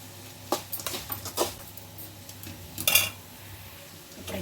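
Potato fry being stirred with salt in a pan, a few sharp metallic clinks and scrapes of a spoon against the pan, close and intermittent over a quiet hum.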